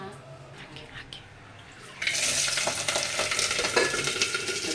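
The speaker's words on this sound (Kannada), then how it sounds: "ಬೆಳ್ಳುಳ್ಳಿ ಪಟ ಪಟ ಅಂತ ಹಾರ್ಬೋದಲ್ವಾ" Garlic spits and crackles in hot oil. A quiet stretch leads into a sudden loud burst of sizzling, and the dense popping hiss then holds steady to the end.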